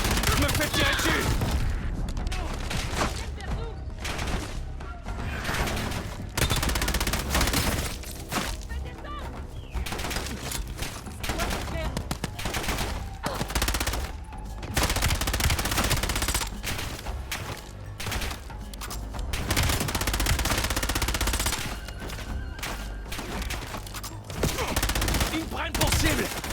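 Gunfire in Call of Duty Black Ops 7 crackles in dense bursts of shots and rapid volleys, loud and busy, mixed with explosions and in-game voices speaking.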